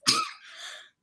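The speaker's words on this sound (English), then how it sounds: "This cough has been going on for 3 weeks." A single close, sharp human cough with a rough burst followed by a softer, breathy tail, under a second long.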